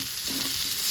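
Potatoes for aloo bhaji fry in a pan, giving a brief, fairly quiet, steady sizzle with a soft stirring rustle.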